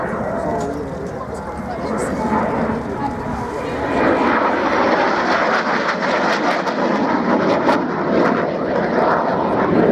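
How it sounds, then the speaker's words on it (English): At an airshow, a two-seat Hawker Hunter jet converted from a single-seater flies past with a broad, steady roar that builds slightly midway and holds, while an announcer's voice runs over the engine noise. "this is one of the many two-seat Hunters that were converted from single-seaters"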